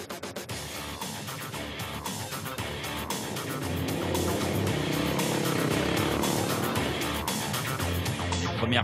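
Rally cars and motorcycles of the 2007 Dakar rally roar past on the first Mauritanian desert track, engines loud and close, revving in a continuous dense wash of overlapping motor noise that swells and grows louder toward the end.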